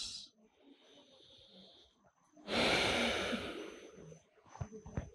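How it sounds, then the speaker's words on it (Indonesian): Deep breathing while holding downward dog during an advanced sun salutation yoga sequence, with a loud, long breath whooshing through the middle and softer breathy sounds around it, heard close and without talk. "Silakan di sini beri waktu 2-3 nafas. 2-3 kali tarikan nafas."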